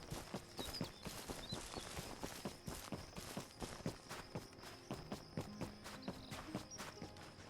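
Horse hooves clip-clop steadily in the video game The Anointed, a brisk rhythmic string of sharp hoof hits running throughout, close and fairly loud over a faint background tone.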